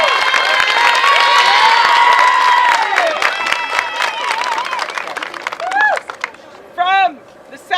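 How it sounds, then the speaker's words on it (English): A large crowd at a regional all-star tournament award ceremony bursts into loud, dense applause and cheering, which thins out after a few seconds, leaving scattered claps and a few high shrieks. "So please clap for everyone, whether they're present or not, okay?"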